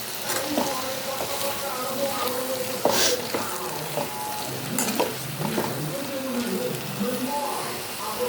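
Capsicum pieces frying in masala for a sweet corn curry, sizzling steadily up close while being stirred, with scraping and clinking knocks from the utensil and a voice heard faintly.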